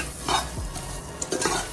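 Spices sautéing in a pan for mutton kulambu, a soft sizzle under quiet stirring, with a couple of light utensil scrapes, close and fairly faint, no voices.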